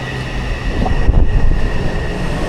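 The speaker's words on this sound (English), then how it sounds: "that means the next train is arriving. And yeah, here it is." Taipei metro train pulling into a station, a steady rumbling rush of wheels and carriage noise that swells briefly mid-way, with a faint high whine over the platform ambience.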